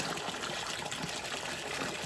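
Water flowing steadily through a gold sluice on a Lake Superior beach, a continuous close rushing trickle at even strength with no talking.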